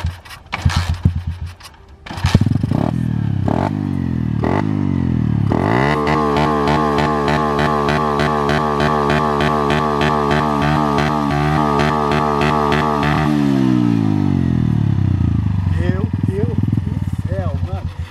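A motorcycle fitted with a Multscan CDI and a Fortuna exhaust is held against its rev limiter, a loud, steady buzzing drone that is chopped into rapid stuttering cuts with popping crackle, after some short revs to start.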